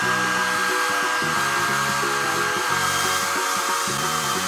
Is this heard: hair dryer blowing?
yes